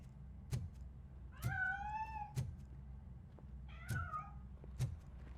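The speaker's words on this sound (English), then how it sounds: "That cat must be hiding inside." A cat meows twice, long drawn-out cries spaced a couple of seconds apart, amid several sharp knocks and thumps, with no talking.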